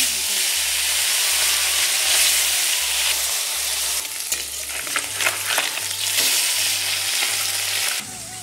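Small river mourola fish dropped into hot oil in a wok, a loud dense sizzle and hiss that flares and crackles more sharply midway, with a faint low hum beneath and no talking.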